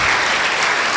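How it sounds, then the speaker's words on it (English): Loud, dense applause from an audience at a physiotherapy induction ceremony honouring a Vice Chancellor, a steady wash of many hands clapping for about a second. "Better round of applause for the Vice Chancellor."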